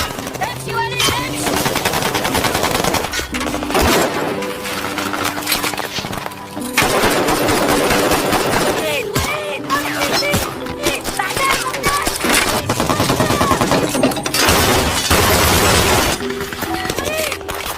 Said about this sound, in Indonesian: Di tengah perjalanan tiba-tiba mereka diserang oleh ISIS yang telah memblokade jalan dan baku tembak pun